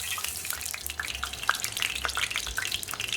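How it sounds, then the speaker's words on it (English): Eggplant frying in hot oil for Turkish stuffed eggplant, giving a steady crackling sizzle with scattered sharp pops and spits of splatter, close and fairly loud throughout. "Now be careful of this splatter, because if there's water still in the eggplant,"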